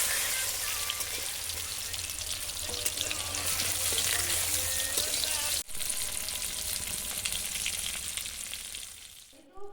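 Duck meat fries in hot oil after potatoes and ash gourd have been fried, giving a loud, steady sizzle and crackle with occasional stirring clatter. The frying cuts out briefly near the end.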